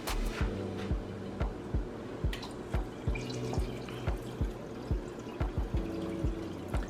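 Water pours into a pot while turkey necks cook, making a rhythmic series of gurgling glugs and drips in a steady repeating pattern, close and clear with no talking.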